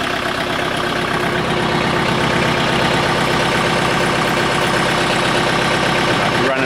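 A tractor engine runs at high idle on a cold morning, a loud, steady, close drone that holds constant throughout.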